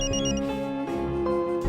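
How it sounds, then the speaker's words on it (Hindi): A phone rings with a bright, repeating electronic ringtone: layered musical tones pulse in quick succession, loud and near, with no voices over it. "फोन बज रहा है, उठाती क्यों नहीं?"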